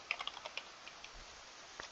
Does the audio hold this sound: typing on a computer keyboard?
yes